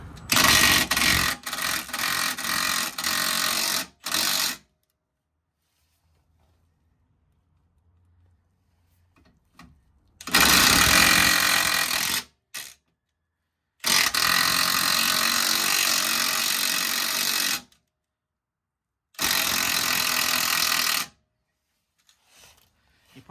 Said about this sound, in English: Dave's just undoing bottom 2 bolts that hold this this plate on here.